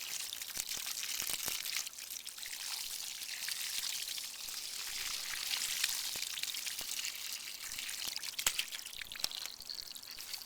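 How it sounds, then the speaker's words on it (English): Water from a garden hose pours and patters faintly as it rinses peroxide paste off a whitened African skull, with scattered drips and splashes. "we're just going to rinse it off with the hose"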